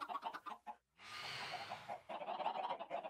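Chickens cluck in a Minecraft game for about a second, a burst of dense squawking that stands alone between stretches of speech before and after.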